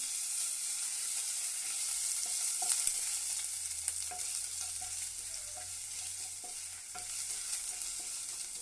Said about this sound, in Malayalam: വെളിച്ചെണ്ണ ചൂടായി വരുമ്പോൾ അതിലേക്ക് നമുക്ക് ഇഞ്ചി ഇട്ട് കൊടുക്കാം